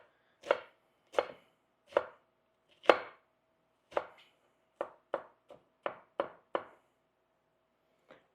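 A knife chops onions on a cutting board in about a dozen crisp, isolated thuds, slow and spaced at first, then quicker in a tight run, close and clear against a quiet kitchen.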